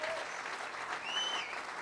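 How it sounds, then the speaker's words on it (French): A church congregation at a service by Lake Maggiore, Italy, claps in a brief, steady burst of applause, a faint tone sliding through in the background. "Applaudissez pour Jésus-Christ."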